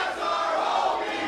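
Crowd at a women's wrestling show in Worcester reacting to Gabby Forza's entrance, a sustained loud roar of many voices, dense and continuous with no break.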